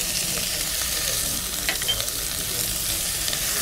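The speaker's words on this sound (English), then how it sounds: "just stir that around to get the flour stir distributed" Flour being stirred into softening vegetables in a hot pan, with a steady sizzle throughout and faint scraping stirs on top.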